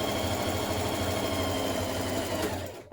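A sewing machine runs steadily, stitching the folded ends of a cardigan band with a 1.5 cm seam allowance, a close continuous motor whir that slows and stops abruptly at the end.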